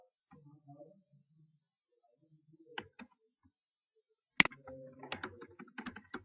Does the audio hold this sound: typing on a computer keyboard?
yes